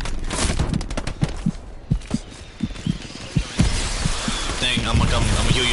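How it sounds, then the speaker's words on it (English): Infantry combat in the video game Hell Let Loose: a string of sharp, separate gunshots, with a heavier grenade blast near the end and a voice talking over the fighting. "I'm gonna heal you, never mind, I got grenaded"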